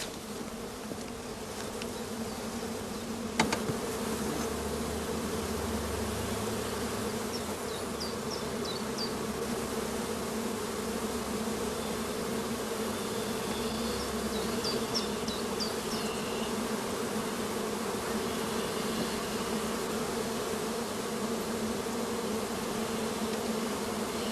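Honeybees swarm over hive frames during a spring colony inspection in an apiary, a dense, steady buzzing drone that stays loud and unbroken throughout, with occasional nearer passes and no talk.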